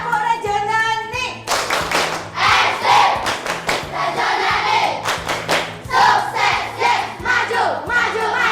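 Primary school children in a classroom perform a rhythmic clap chant, loud group clapping in quick patterned bursts mixed with shouted chanting voices in unison, after a brief adult voice at the start.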